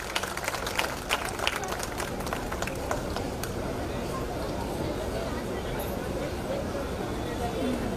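An audience at a large Buddhist gathering claps to welcome guests, a dense, steady roar of applause that fills the whole stretch, loud and continuous with crowd murmur beneath.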